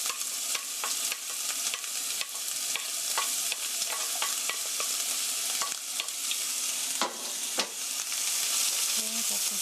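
Onion and garlic stir-fry in hot oil at a camp cooking setting for spicy spaghetti, a steady close sizzle with repeated scraping strokes of a utensil against the pan throughout, no voices.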